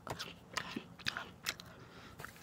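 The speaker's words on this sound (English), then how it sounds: "but I'm just eating cereal" Crunchy breakfast cereal being eaten up close, a few crisp bites and chews spaced unevenly over a couple of seconds, fairly quiet.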